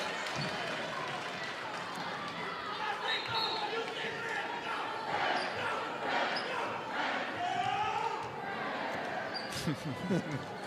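Fans cheer at a high school volleyball game in a gym, chanting and shouting in rhythmic bursts with ball bounces and crowd noise, while a commentator talks over them.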